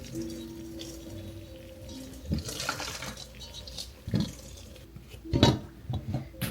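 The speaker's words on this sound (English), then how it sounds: "Boiling water goes in." Boiling water pours and splashes into a pot in a few short bursts, close by, over a quiet room hum.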